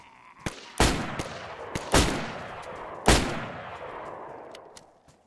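Loud gunfire in the DayZ video game as a magazine is emptied, several heavy close shots with quick smaller cracks between them, each ringing out and decaying.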